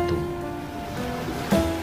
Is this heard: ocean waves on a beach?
yes